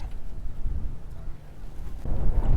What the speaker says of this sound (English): The wind is so bad right now.